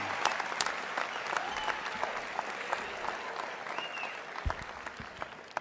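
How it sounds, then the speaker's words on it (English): Graduates at a Westwood ceremony give a few seconds of steady applause, with a crowd clapping and cheering at a moderate distance. "Give yourselves a round of applause."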